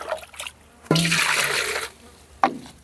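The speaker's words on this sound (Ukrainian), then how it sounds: "налити водички свіженької" Fresh water splashes into a bucket meant for a young calf on a small Ukrainian dairy farm, a loud one-second pour between softer handling sounds, then a brief sharp splash near the end.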